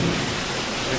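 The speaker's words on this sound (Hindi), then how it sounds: "देखो बाहर केते वर्षा देख" Heavy rain falling outside, a dense loud steady hiss filling the whole moment with no voices.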